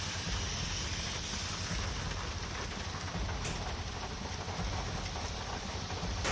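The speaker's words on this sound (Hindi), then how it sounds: "जहां पर पिछले कुछ देर से तेज झमाझम बारिश हो रही है।" Heavy monsoon rain pours steadily on Talkatora Road in central Delhi, a dense, continuous roar of rainfall that stays loud and even from start to finish, with no voices.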